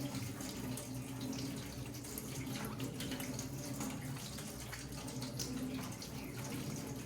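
A kitchen tap runs as dumplings are rinsed under it. The water makes a soft, steady rush that carries on without breaks, faint and unaccompanied by talk.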